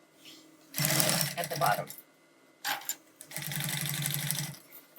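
A sewing machine stitches a seam in laminated cotton for a crescent bag, running in two long steady bursts with a short pause between, loud and close, as someone talks quietly over it.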